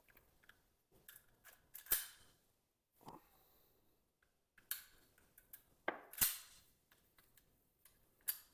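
Metal parts of a VIS wz. 35 pistol clack and snap sharply during disassembly, a scattered series of crisp clicks and knocks with two louder impacts, close up and with no talking.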